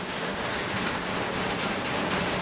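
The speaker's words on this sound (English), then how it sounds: "I think this metal roof is making it sound like it's raining harder." Rain pours onto a metal roof in a steady, dense drumming hiss that stays loud and even throughout, with no voices.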